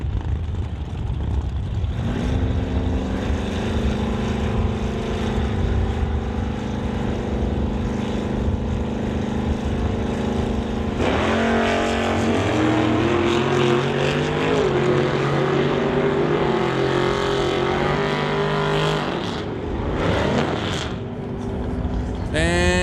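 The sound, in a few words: drag race: Plymouth versus Ford Roadster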